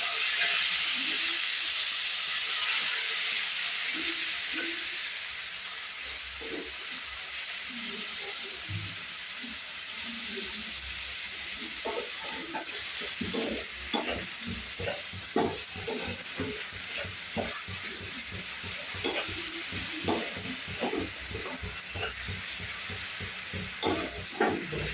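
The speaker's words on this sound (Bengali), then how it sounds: "হালকা নাড়িয়ে এতে দিয়ে দেবো দুটো পেঁয়াজ বাটা।" Onion paste frying in hot oil with whole spices such as dry red chilli, cumin, cinnamon, cloves and cardamom, a steady loud sizzle and hiss followed by a series of rhythmic spoon stirring knocks, close and continuous.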